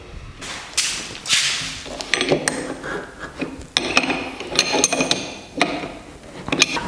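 A mitre lock router bit is fitted into a router table, giving close metallic clicks, clinks and light thumps in an irregular run of handling sounds. No one speaks.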